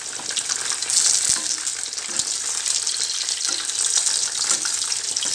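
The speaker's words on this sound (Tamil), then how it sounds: "நம்ம மீன் நல்லா ஃப்ரை ஆயிடுச்சு" A whole koduva fish fries in a little oil on a flat tawa, giving a loud, continuous sizzle and crackle with a couple of brief knocks.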